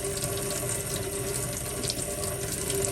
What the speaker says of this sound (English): let me just turn that water up a little bit. I'm going to wash my hands now, like so.